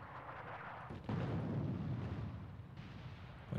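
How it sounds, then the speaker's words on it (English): Artillery bombardment in the WWII desert strategy game Attack At Dawn: North Africa, a continuous heavy rumble of massed shellfire with a sharp surge of louder blasts after the first second, sustained and dense. "I'm just going to start with a general bombardment against everything to my front"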